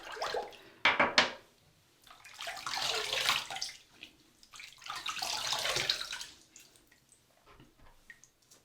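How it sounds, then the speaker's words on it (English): A safety razor with a mild blade is rinsed under a running tap after shaving, giving a sharp splash, then two longer bursts of gushing water with drips between, close and alone. "let's have a rinse"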